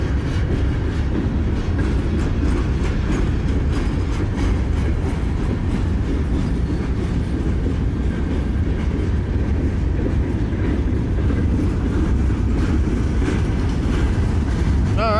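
Canadian National 4925 freight train rolls through Effingham, Illinois, a loud continuous rumble of wagons and rail clatter that holds steady throughout, with faint voices now and then.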